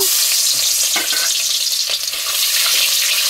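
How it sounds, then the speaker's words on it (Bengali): Chopped onion hits hot oil in a heated wok-style pan and fries with a loud, dense, continuous sizzle up close, a few stirring scrapes breaking through, no voices. "তেল দিয়ে দিয়েছি, কড়াই গরম হয়ে গিয়েছে। এখন ওই পেঁয়াজটা দিয়ে দেব,"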